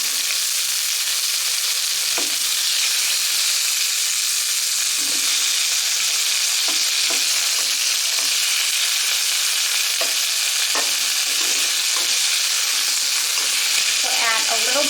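Sliced raw mango frying with green chili and black mustard seeds in a hot pan gives a loud, steady hiss and sizzle, with occasional soft pops and clinks.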